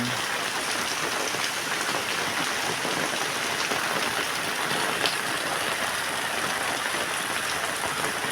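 Heavy rain pours down steadily outside a mosque after midday prayers, a dense, loud, unbroken roar of water hitting the ground and surfaces, with no voices.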